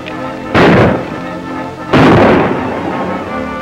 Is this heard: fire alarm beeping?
no